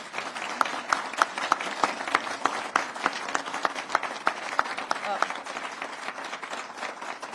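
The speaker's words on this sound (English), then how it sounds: "I'm glad you're clapping" Audience at a community college visit by the governor clapping in a moderate, somewhat sparse patter with distinct individual claps, fairly faint and continuing steadily, with some voices mixed in.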